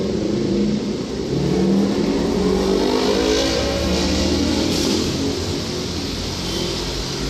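Busy street traffic in Sukat, near BF, with cars, jeepneys and minibuses, fills the air with a loud, continuous rumble of engines and passing vehicles that rev and accelerate close by.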